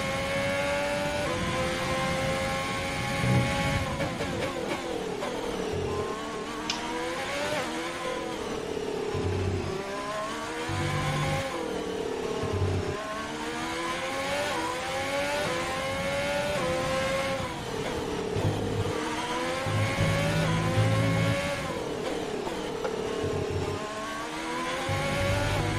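A Ferrari Formula 1 car in the F1 2020 video game on a flying lap around Abu Dhabi, its engine screaming loud and steady as it climbs through gears, with brief drops and rises in pitch at shifts and corners.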